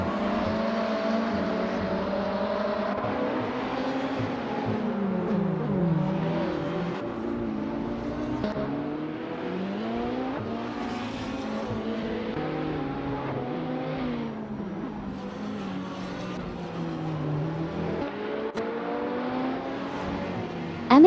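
Supercars, including a 2017 Lamborghini Huracan Performante, race at Seattle Circuit in a video game. Engines whine continuously, with overlapping revs rising and falling as cars shift and pass, all at moderate loudness.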